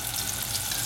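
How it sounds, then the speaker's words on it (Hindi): Ginger garlic paste sizzles in hot oil for a Goan kingfish masala fry, a steady, dense frying hiss heard up close with no voices over it. "मैं तेल गरम किया, हाँ, उसमें अदरक लहसुन पेस्ट डाला"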